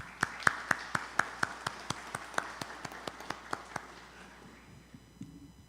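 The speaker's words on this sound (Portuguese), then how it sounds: "Palmas para a revista Reformador." An audience claps in a steady, even rhythm at the end of a spiritist lecture in Portuguese. About fifteen crisp, evenly spaced claps ring out, and the clapping gradually fades away to near silence.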